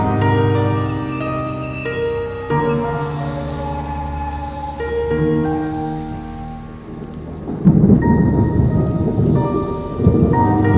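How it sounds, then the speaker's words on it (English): Summer thunderstorm heard from indoors, steady rain with rolling thunder building up and then heavy downpour bursts, loud and continuous with no talking. "listened to the thunderstorm, because we finally got some good summer thunderstorms in my new office"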